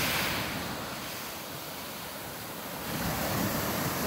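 Waves washing against the rocky north shore of Lake Superior, a broad hissing surf that eases briefly and then surges again, near and steady with some wind noise.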